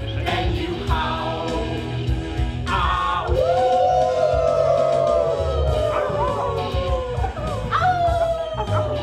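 A person imitates a dog, giving short barks and then a long rising and falling howl, loud and close over a busy background.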